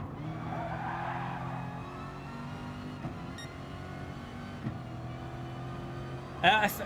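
A race car in the GT Sport video game drones along, braking hard with a short loud tire skid near the end, while a person talks over the engine.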